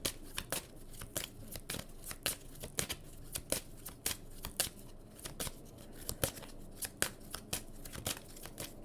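Tarot cards shuffled over and over in a steady run of crisp, papery riffles and slaps, fairly close and alone with no talking.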